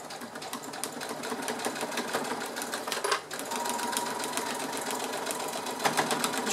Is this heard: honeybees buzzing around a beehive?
no